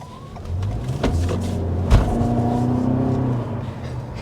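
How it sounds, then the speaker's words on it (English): A 2023 Toyota Camry hybrid with an ECVT automatic and front-wheel drive accelerates, its engine rising in a smooth, steady drone with no gear changes, heard from inside the cabin with a faint thump partway through. "another thing you can hear with that acceleration is the fact that there are no gear changes"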